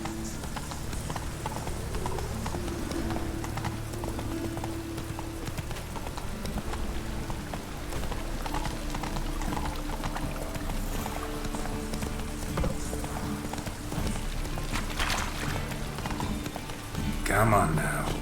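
Hooves of a horse galloping at a steady clip in The Witcher 3, running continuously under game music and ambience, with someone speaking over it at times.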